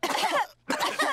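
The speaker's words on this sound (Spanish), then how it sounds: "Los adultos se contagiaron de la tos que tiene Pedro." Cartoon characters cough in a short, loud burst of several coughs, a brief pause, then another round of coughing from the adults in a children's animated pig family show.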